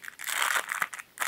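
Plastic packet holding an L.O.L. doll outfit being opened, brief crinkling and rustling bursts close to the listener, coming in quick uneven handfuls with short pauses between them.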